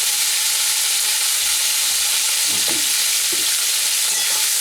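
Sliced bitter gourd fries over a high flame in hot oil with turmeric and salt, giving a loud, steady, close sizzle with faint stirring scrapes and no talk.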